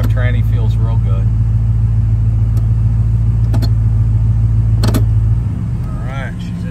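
A 2001 Toyota Tundra two-wheel-drive pickup idling in gear with a loud, steady low engine rumble that drops in level near the end, while someone talks over it.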